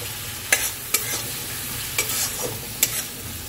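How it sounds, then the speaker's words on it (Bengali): Spice masala sautés in a pan under a low, steady sizzle, punctuated by about five sharp spatula scrapes and knocks at irregular intervals, close up with no talking. "তবে এটা মশলাটা কষিয়ে নিই ভালো করে"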